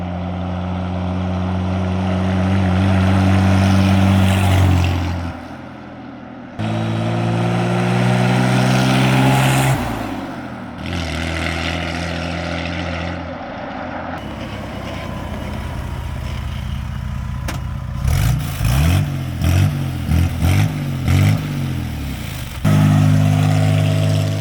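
A 1941 Dodge Power Wagon truck cruises down a highway, its engine droning steadily and close with low harmonic hum, shifting pitch between stretches, punctuated by brief rattling bursts near the end; no one speaks.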